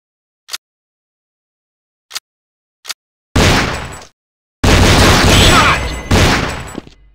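Three short sharp shots ring out alone with pauses between, followed by two loud, sustained bursts of booming gunfire, in a mobile war video game.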